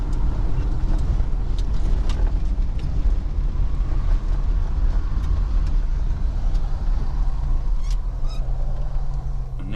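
A Holden HK car pulls off and drives along a road, its engine and road noise a steady loud rumble that runs unbroken throughout, with no voices.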